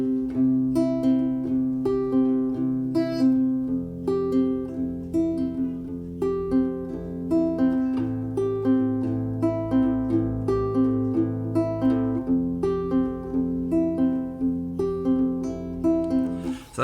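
Guitar chords laid down as the harmonic basis for a beat, ringing steadily with a shifting low line beneath, loud and close with no talking.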